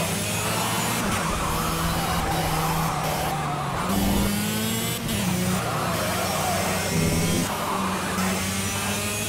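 A kart in the racing video game Project CARS, on the Dubai kart track, spins out. Its engine whines and revs steadily throughout, with tyre squeal and skidding, and there are no voices.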